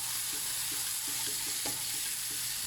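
Garlic sautéing in a pan for Filipino pinakbet, a soft steady sizzle with a few light stirring clinks and scrapes spaced through it, close and fairly quiet with no talking.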